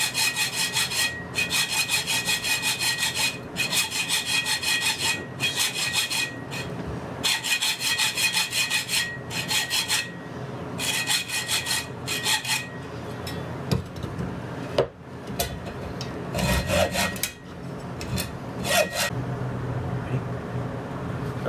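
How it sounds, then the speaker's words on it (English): A hacksaw cuts through steel bolts just past the nuts, in steady back-and-forth strokes that are loud and close, with brief pauses between runs of sawing and no talking. "I'm just going to take a hacksaw and cut the bolts off right past the nuts"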